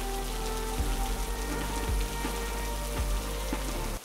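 Rain falls steadily and densely in a cartoon, a continuous patter with a few louder drip-like hits mixed in, moderately loud and with no voices over it.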